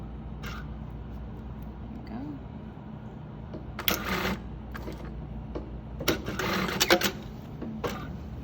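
A sewing machine runs in short bursts of rapid mechanical clatter as it stitches a small section of fabric for a shirt cuff, between stretches of quiet room tone.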